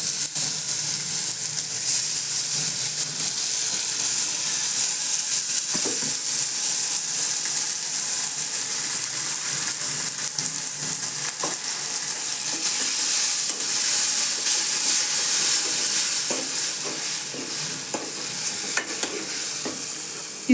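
Crushed black pepper, cumin, tomato and garlic sizzle steadily in a hot pan, with a dense continuous frying crackle and occasional stirring scrapes throughout, loud and close with no talking.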